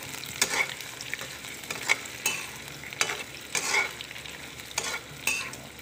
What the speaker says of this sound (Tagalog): iprito ko muna ng bahagya yung hotdog